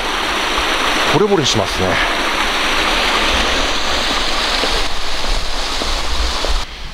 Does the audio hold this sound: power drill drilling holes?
no